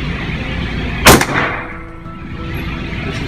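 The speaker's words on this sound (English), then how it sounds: "This is semi-automatic. Fire. Fire. Go for that center target." A single sharp shot from a semi-automatic gun fired at a target outdoors, loud and close, followed by a short rolling echo over steady background noise.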